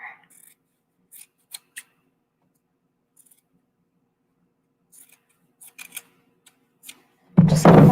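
Scissors snip through a T-shirt's fabric to cut off the top for tote bag handles, with sparse, sharp individual cuts spaced out over several seconds, followed by a louder rustle of handling at the end.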